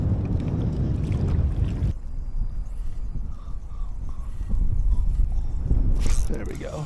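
A south wind gusts over open water, buffeting the microphone with a loud, low rumble that dips briefly and then swells again, heard from a small fishing boat on a warm afternoon.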